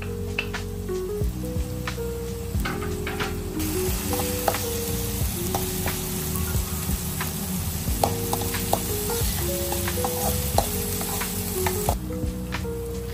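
Green chillies frying in a pan for a sprout chilli dish, a dense close sizzle with crackling pops and frequent stirring scrapes throughout, with no talk.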